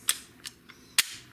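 The cylinder of a Barra Schofield .22 caliber pellet pistol is snapped shut, giving sharp metallic clicks: a crisp snap, two fainter ticks, then a second loud click, close and alone.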